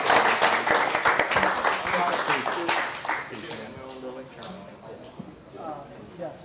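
A small group claps for a few seconds, the applause fading out as people begin talking.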